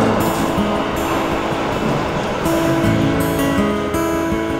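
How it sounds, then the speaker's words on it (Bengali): A scenic train ride through the Swiss mountains toward Lauterbrunnen carries a continuous rolling rail rumble and rushing noise from inside the carriage, steady and fairly loud with no voices. "পৃথিবীর সবচেয়ে সুন্দর দেশগুলোর একটিতে মনোরম রেল যাত্রায় বেরিয়েছি।"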